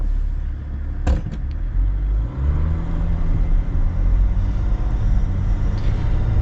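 A 6x6 Jeep Gladiator idles and rolls along with a steady low engine rumble, a few brief clicks and knocks sounding near the start as it shifts into four-wheel drive, with no talking.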